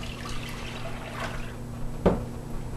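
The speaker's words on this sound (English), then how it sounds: "add the milk" Milk poured into a pan on a stovetop for Somali coconut squares makes a soft liquid pour and trickle with one brief splashy drip near the end, fairly quiet against a low steady hum.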